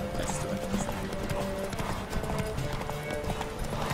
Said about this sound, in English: Every time, this horse runs out of steam.